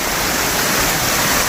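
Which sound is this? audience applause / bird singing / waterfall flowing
waterfall flowing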